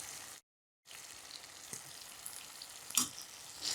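Spices such as turmeric, chili powder and coriander powder sizzle steadily in hot oil for a railway-style chicken curry, a continuous crackling fry broken by a brief gap of silence near the start, with a few louder pops and stirring sounds.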